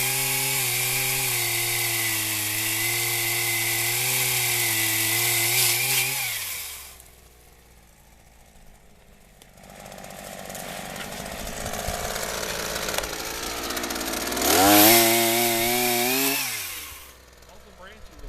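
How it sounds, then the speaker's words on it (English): A Husqvarna 327P5 pole saw cutting tree branches gives a loud, steady high engine whine. It drops away in the middle while the cut continues, then revs up strongly again before stopping. "Tree pruning saw blades aren't aggressive like a chainsaw because they don't want it to bind"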